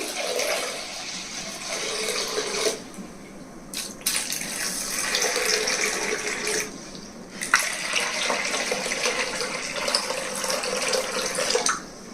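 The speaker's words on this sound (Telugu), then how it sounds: "ఇప్పుడు నీళ్లు పోసి నానబెట్టాలి" Water gushes steadily from a tap into beans being soaked, briefly stopping and restarting a few times, close and fairly loud.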